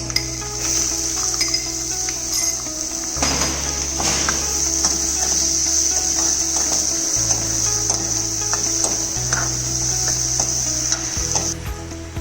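Chopped onions added to a pan of tempering chilies and hing sizzle steadily and loudly, with a spoon stirring and scraping over a constant low appliance hum.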